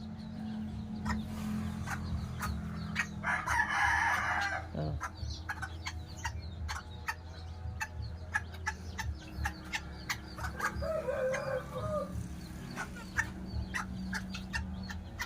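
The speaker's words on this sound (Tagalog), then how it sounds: "ito lang yung aking mga collection ng mga bantam chicken" Bantam chickens, including Malaysian Serama and chabo, cluck and call repeatedly at moderate distance, with short bursts of louder cackling and crowing over a low steady background hum.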